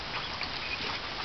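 Indian Runner ducks quacking nearby amid a broad hiss of background noise, with a few faint calls scattered through the moment.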